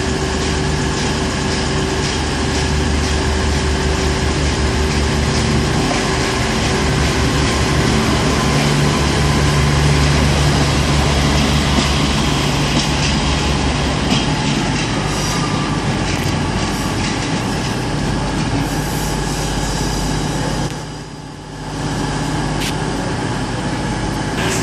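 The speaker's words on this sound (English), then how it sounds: "We got the cross-country service now leaving to Leeds." A CrossCountry train pulls out of Exeter St David's bound for Leeds, its diesel engine rumbling loud and close under steady wheel noise, with a brief dip near the end.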